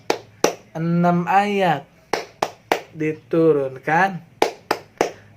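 Rhythmic hand clapping for the Tepuk An-Nas clap chant: sharp, close claps fall in a steady pattern, interleaved with a voice chanting between the beats.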